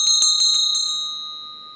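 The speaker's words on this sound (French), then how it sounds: "elle grince, moi, la cloche, au début" A bell rung in a lecture demonstration sounds with a harsh, grating, beating tone: several rapid strikes in quick succession, then a loud, pure ringing tone that fades steadily, with no talk.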